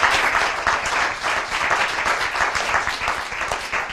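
A close, loud round of applause from an audience at a finals gathering, with dense rhythmic hand clapping pulsing steadily throughout.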